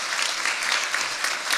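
Church congregation claps briefly, a dense, even burst of many hands applauding together with no pause.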